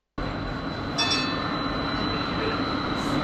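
A train passing near a station in Bergen, Norway, a loud steady rumble of railcars with a faint high squeal from the wheels, starting abruptly and continuing throughout.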